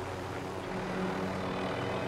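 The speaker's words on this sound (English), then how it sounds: "We do have a helicopter on our tail." A helicopter in Call of Duty Warzone Pacific hums steadily nearby, a constant droning rotor and engine rumble with no pauses.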